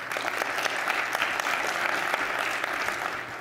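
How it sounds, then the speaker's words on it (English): A conference audience at a tech event claps briefly, a thin but steady patter of many hands with a few sharper individual claps standing out. "clap if you feel that Comcast is the fastest here in town"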